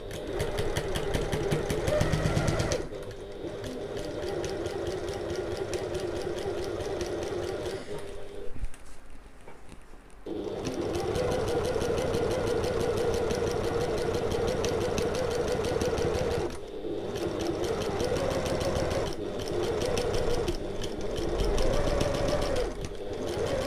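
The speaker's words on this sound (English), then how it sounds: "we're going to sew this into place using our 3/8 of an inch seam allowance" A sewing machine stitching a bag seam at a 3/8-inch allowance with regular stitch length, a steady close mechanical whirr running in long stretches, broken by a few brief pauses and restarts.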